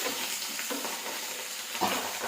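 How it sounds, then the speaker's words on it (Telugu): Curry leaves and green chilies frying in a hot pan, making a soft continuous sizzle with faint crackles and a brief stir, quiet and close, with no talking. "కొద్దిగా కరివేపాకు నేను పచ్చిమిర్చి కూడా వేస్తున్నానండి ఇవన్నీ బాగా వేడవ్వాలండి"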